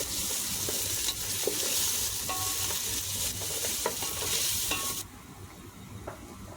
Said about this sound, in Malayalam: നമുക്ക് ലോ ഫ്ലെയിമിൽ ഇട്ടിട്ട് വേണം ഇങ്ങനെ ഇളക്കി കൊടുക്കാൻ